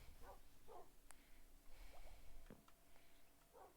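A sleeping dog lying underneath someone makes faint dreaming noises, a few soft muffled yips, snorts and whimpers spaced out over a quiet background.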